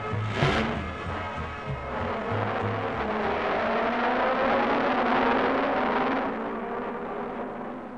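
Formula 5000 race cars, including a Lola Chevrolet and a McLaren Chev, roar past in the final round of the Guards championship, a dense continuous engine howl with shifting pitch that swells midway and fades slightly at the end.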